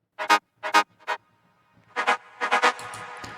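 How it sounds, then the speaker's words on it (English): Short bright synth stabs from a remix drop punch out in a choppy rhythm, three quick bursts, a pause, then a denser run of hits with a faint sustained tone beneath, close and alone. "I'm starting to slowly introduce elements from the drop, such as this synth layer."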